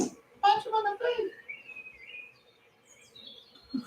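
A bird call sound effect plays during a tabletop RPG session, a few high chirps and whistled trills that drift on after a short burst of talking, with faint voices returning at the end.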